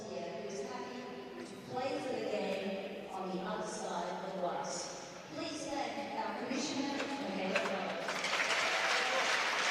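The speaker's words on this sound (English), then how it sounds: "Great cheers from the crowd." An arena crowd cheers and applauds at a women's ice hockey semi-final between the Melbourne Ice and Adelaide Rush in Adelaide, ahead of the ceremonial puck drop. The steady roar swells toward the end beneath an announcer's voice.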